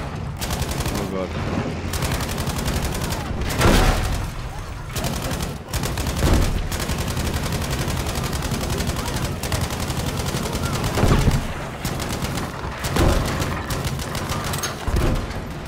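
Dense, continuous gunfire in the World War II shooter Battlefield V, with rapid automatic bursts and heavier loud cracks recurring every few seconds, while a player's voice talks over the din.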